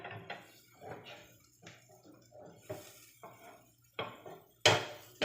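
White onions are stirred in a pan with a spoon, making a series of quiet, rhythmic scrapes and soft clinks of metal against the pan, separated by short pauses.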